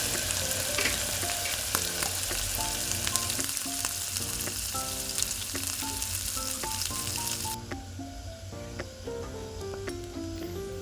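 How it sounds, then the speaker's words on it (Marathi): Tomato masala paste sautéing in a pan for egg pulao, a steady sizzling fry heard close up, with music playing over it throughout. "त्यामध्ये मिक्सरमधून केलेले वाटण यात टाकून चांगले परतवून घेतलेले आहे।"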